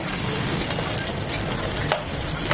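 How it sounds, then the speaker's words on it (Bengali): Eggplant slices fry in hot oil for an eggplant curry, a dense, steady sizzle filling the clip at constant loudness, close and without speech. "একটা পাশ দু থেকে তিন মিনিট ভাজবো তারপর উল্টে দেবো"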